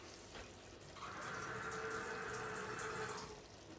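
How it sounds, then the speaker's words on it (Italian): Water from a tap runs steadily into a cooking pot in a home kitchen, a faint continuous hissing pour lasting a couple of seconds before tapering off. "Allora, riempiamo la pentola d'acqua"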